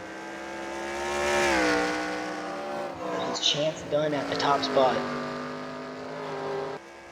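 A race car in a sim racing video game revs hard while its tires slide, the engine pitch rising and falling, with a commentator talking over it.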